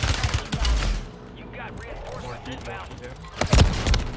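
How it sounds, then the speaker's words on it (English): Gunfire in Call of Duty: Modern Warfare III, with loud broadband shot bursts near the start and again around three and a half seconds, separated by quieter game ambience and faint voices. "Someone shooting at me, y'all see him?"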